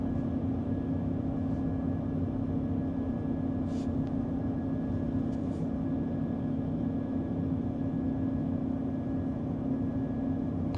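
A Tesla Cybertruck preconditioning its battery for supercharging gives off a steady, continuous whine and hum that holds evenly throughout, with no talking over it.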